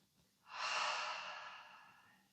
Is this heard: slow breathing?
yes